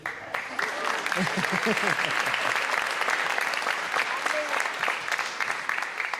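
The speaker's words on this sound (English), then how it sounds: "Y'all need to give Coach Sale a round of applause." A crowd at a high school athletic banquet gives a coach a round of applause: dense, steady clapping fills the whole stretch at even loudness, with a few voices calling out early on.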